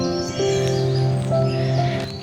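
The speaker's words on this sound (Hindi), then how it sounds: "चिड़ियों की इतनी सुंदर आवाज़ें आ रही हैं।" Bright bird calls and chirps ring out steadily outdoors in Almora, Uttarakhand, several overlapping tones with a soft background hiss.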